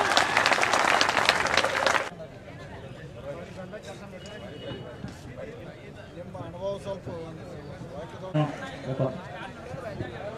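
A loud burst of clapping from villagers at a sugarcane farmers' protest in Bagalakote lasts about two seconds, then cuts off abruptly as talk and scattered crowd noise take over.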